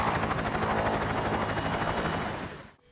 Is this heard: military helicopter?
yes